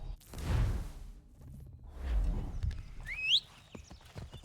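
Horse hooves clip-clop in Assassin's Creed III as dull, uneven thuds under a rushing whoosh, with a brief high rising whinny or whistle near the end.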